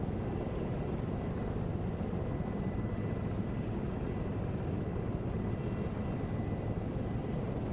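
Attack helicopters in a tank and infantry warfare video game give a dense, constant rotor and engine roar, steady and fairly distant, with no talk over it.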